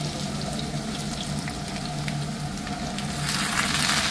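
Papaya pieces dropped into hot oil over fried potatoes give a dense, continuous close-up sizzle that holds steady and swells slightly louder near the end, with no voices.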